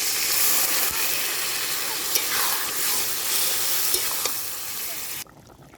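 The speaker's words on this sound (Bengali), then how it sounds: "মশলাটা কষানো হয়ে গেছে, এবার জল দেবো।" Fried spice masala with potatoes for a Bengali dhoka curry, sizzling loudly in the pan with stirring scrapes and a few knocks, then cutting off abruptly near the end.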